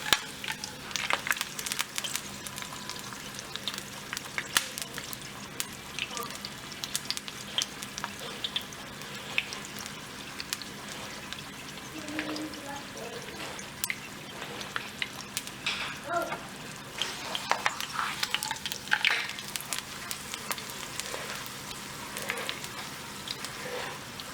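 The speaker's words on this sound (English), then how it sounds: "Then we're just going to continue to flip this until it's brown or as hard or as soft as you like it." Chicken tacos fry in a pan and are flipped until crispy, giving a continuous close sizzle broken by scattered pops, crackles and the scrape of turning, with no speech.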